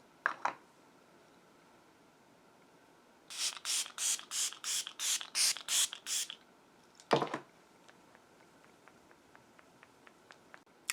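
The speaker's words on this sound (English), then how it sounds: "I'm going to use the Milk Hydro Grip Setting Spray." Milk Hydro Grip setting spray misted onto a face, a quick run of about eight sharp, close hisses in steady rhythm, followed by one longer burst, then quiet with faint ticks.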